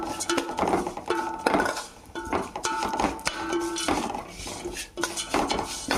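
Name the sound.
frying vermicelli in a pan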